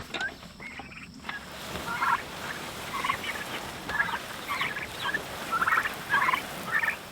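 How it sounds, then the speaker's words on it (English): A small flock of eight farm turkeys gobbling, several birds calling in overlapping bursts at moderate distance, repeating every second or so against a steady outdoor hiss. "Let's check out on our turkeys. We got 8 turkeys now."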